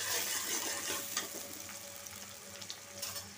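Onions fry and sizzle steadily in a pan with green chillies, a dense close crackle with occasional stirring scrapes, no talking.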